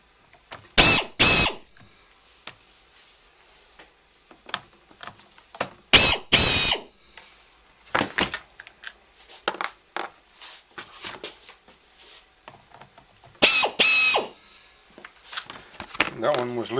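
Screws come out of the side cover of a Husqvarna chainsaw in short squealing, ratchety bursts, with several separate spurts of turning spread between quieter handling noises close by.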